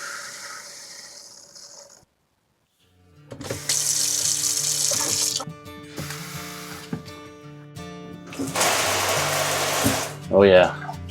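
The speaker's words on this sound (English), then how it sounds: "Turn this valve on and see how it looks inside." Water rushes through a newly mounted RV water regulator valve set at 45 PSI aboard a Class A motorhome, coming in two loud gushing bursts with mechanical clicks between them and a brief voice near the end.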